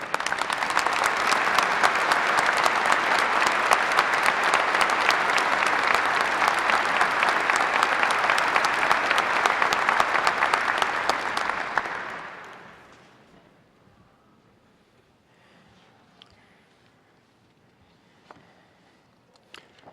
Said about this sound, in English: Please join me in a round of applause for Dr. Rushing as well.